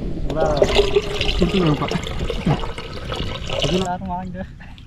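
Water is poured into a pot set up for Pongal cooking, a short splashing pour heard under a person talking.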